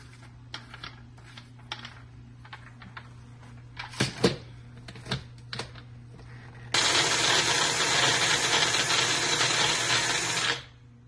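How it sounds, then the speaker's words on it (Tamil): A kitchen blender mixes ingredients with cardamom, first some clicks and taps of loading, then a loud steady whirring motor roar for about four seconds that stops abruptly, with no talk. "பிளெண்டர்ல போட்டு மிக்ஸ் பண்ணணும்"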